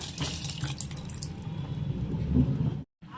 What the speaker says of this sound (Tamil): தண்ணி கொதிக்க ஆரம்பிச்சிச்சு